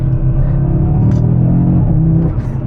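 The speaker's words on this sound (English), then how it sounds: "we are driving on a very nice back road here" Audi RS3 cruising along a back road, a steady, loud low engine and road rumble heard from inside with no break.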